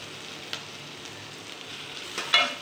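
Chopped onion frying in a pan as tomatoes go in, a steady soft sizzle with a couple of brief louder bursts of spatter and stirring, close and alone.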